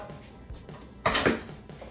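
Chopped ingredients for homemade dog food tipped into a cooking pot in a home kitchen, a short clattering rustle with a metallic knock midway, fairly close and alone.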